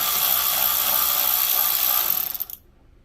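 A ratchet with an extension and 10mm socket turns a battery terminal nut on a Honda Pilot, giving a steady, close, continuous clicking buzz that stops abruptly near the end, leaving silence.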